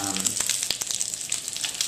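Potstickers pan frying in a shallow lidded saute pan, giving a steady, close, dense sizzle with crackling pops throughout and no talking.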